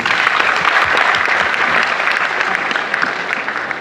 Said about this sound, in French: Merci, il faut les applaudir.